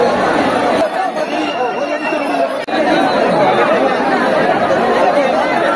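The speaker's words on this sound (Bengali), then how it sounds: "এখানে ভিড় দেখো, প্রচণ্ড ভিড়, প্রচুর পরিমাণে ভিড়" Dense crowd of pilgrims chattering at Nimai ghat in Tarakeswar during a busy Monday yatra, a steady loud wash of many overlapping voices close around with no single speaker standing out.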